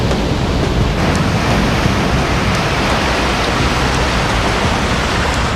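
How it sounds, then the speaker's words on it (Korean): Ocean waves wash against the rocky Jeju coast on a rainy day, a dense, steady roar of surf and rain that stays loud and close throughout, with no voices. "제주 바다가 코앞에 있습니다."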